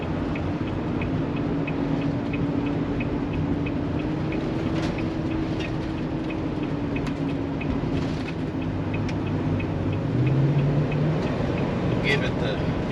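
2012 Freelander 21QB Class C motorhome with a Chevrolet 6.0 V8 cruising up an interstate, a steady engine drone and road rumble filling the cabin while someone talks over it.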